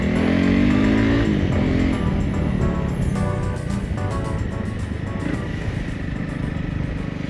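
Honda CRF 300 Rally, a 150 kg motorcycle, is ridden off-road on wet trails, its engine droning up then settling as rough wind and terrain noise take over, steady and close.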